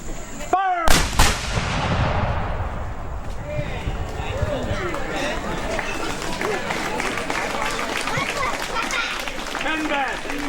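A black-powder cannon at a colonial festival in North Lawrence, Ohio fires one sharp, booming shot just after a shouted command. Crowd noise, scattered voices and rustling follow as the blast fades.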